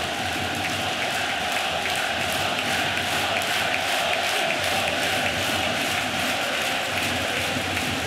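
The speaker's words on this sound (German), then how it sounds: "Und plötzlich ist das Klotener Publikum wieder lautstark da." Home crowd at an EHC Kloten ice hockey playoff game against the SCRJ Lakers, roaring and cheering loudly and steadily with rhythmic chanting throughout.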